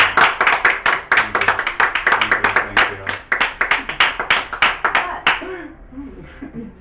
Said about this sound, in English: Clapping sound.